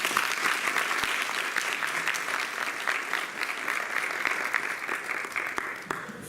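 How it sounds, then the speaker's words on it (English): An audience at a Guru Purnima gathering gives a long, even round of applause, many hands clapping steadily at mid distance before the sound thins near the end. "Another round of applause, please,"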